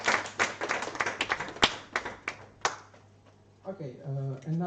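A burst of hand claps in an uneven rhythm, fairly close, followed by a person speaking.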